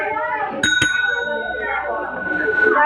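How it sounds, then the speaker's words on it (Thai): A shop counter bell in a convenience store video game gives two quick bright dings close together, ringing over steady game music and talking. "เล่นกับกระดิ่งได้ปะขอน้อง"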